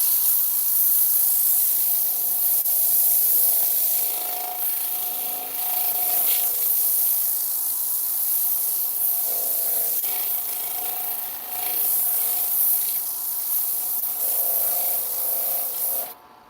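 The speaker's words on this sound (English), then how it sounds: "let me put the shield down and let's get some sanding done." Wooden dishes spinning on a lathe are sanded with abrasive paper, giving a steady hissing rub with slight swells and dips in intensity, close and continuous for about sixteen seconds with no talking.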